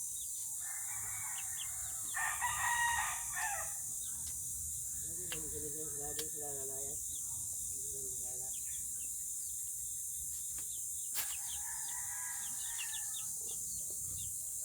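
A rooster crows in a backyard, its call rising over a faint insect and cricket background, followed by a later shorter crow; people talk quietly in between.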